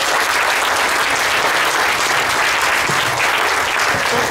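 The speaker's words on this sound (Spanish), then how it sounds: "Vamos a darle un aplauso al Señor Jesús." Church congregation applauds during an evening service, a loud, dense, continuous roar of many hands clapping, evenly sustained throughout with a faint voice underneath.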